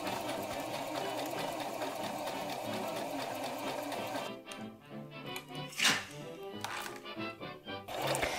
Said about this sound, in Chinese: 然后再用缝纫机上的那个盲缝针法缝在裙摆上